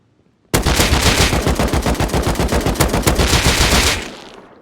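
Sustained automatic gunfire sprays in a rapid continuous burst of about three and a half seconds in the Rust video game, loud and close with no talk.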